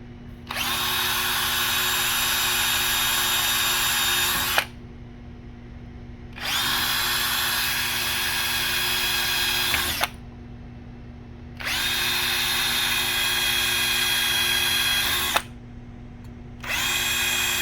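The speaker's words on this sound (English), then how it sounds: "with the sequence of drill bits. We start with the smallest one." An electric drill bores holes through a switch bracket with a sequence of progressively larger drill bits, whining in three long steady bursts of about four seconds each with short pauses between, then a brief final burst.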